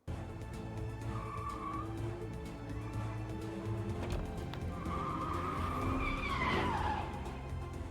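Car skidding in an animated LOL Surprise movie chase scene: screeching tire squeal over engine rumble and movie sound effects, loud and sustained, rising to a sharper burst near the end.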